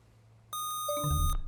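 A quiz show buzzer on a high school academic quiz program sounds as a sudden bright electronic tone, followed moments later by a lower, louder buzz that swells and holds to the end.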